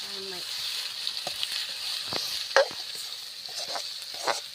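Bamboo shoots frying in a pan in a village kitchen, a steady close hiss of sizzling oil with scattered clicks and scrapes of stirring, and a brief voice at the start.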